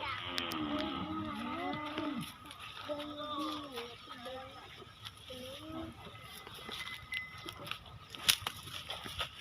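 A Friesian cross cow moos in a run of drawn-out, wavering calls close by, with livestock-yard noise and occasional voices around it, then quieter rustling.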